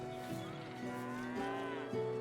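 A cow lows several times in a row in the fantasy role-playing game Divinity: Original Sin 2, steady and fairly close, with a tonal game backdrop continuing underneath.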